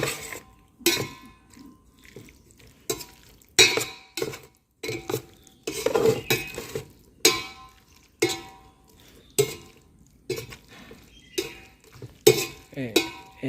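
A spoon stirs pasta with spices in a pan in repeated scraping, clinking strokes at an uneven rhythm, close and moderately loud, with short pauses between strokes and no talk.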